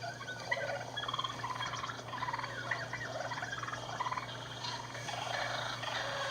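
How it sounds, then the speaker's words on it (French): Wild turkeys purr softly while feeding or perched, a steady stream of low rolling purrs with scattered small calls, heard alone with no voices. "Les dindons adultes tranquilles émettent souvent des ronronnements lorsqu'ils se nourrissent ou se perchent"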